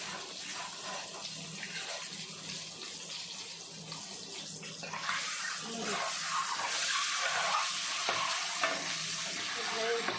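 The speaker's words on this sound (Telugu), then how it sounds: "ఎగ్ ఎర్రగా అయ్యే వరకు వేసుకోవాలి" Boiled eggs fry in oil with spices, giving a continuous hissing sizzle that grows louder and denser halfway through, close and steady without talk.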